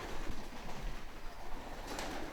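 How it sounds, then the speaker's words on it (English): Pigeons coo in low, soft calls within a steady noisy background inside an old man's home overrun with rats and starving birds. "Damn, this pigeon's dying."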